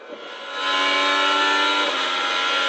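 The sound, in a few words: IndyCar race car onboard engine at speed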